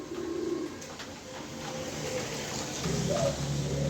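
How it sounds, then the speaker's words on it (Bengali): A 2023 female pigeon coos softly and repeatedly, low calls sounding close over a steady background hiss with no talking. "2023 সালের একটা মাদি কবুতর"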